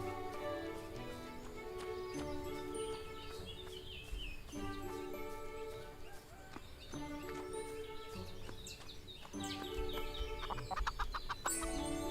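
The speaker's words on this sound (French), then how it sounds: "tout ça pour les poulets" Chickens clucking in the farming game Everdream Valley, a steady run of short clucks and calls over a bright looping melody, no voices.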